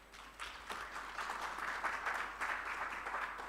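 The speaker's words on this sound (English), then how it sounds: "we have to give them a round of applause" Audience applause at a university research chair launch event, a broad steady wash of clapping held at a fairly faint level for a few seconds.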